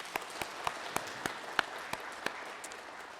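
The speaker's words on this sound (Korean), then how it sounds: "예, 박수 하겠습니다." A church congregation at a dawn family prayer service claps in a short, fairly regular run of sharp claps, about a dozen over three seconds, faint and a little distant.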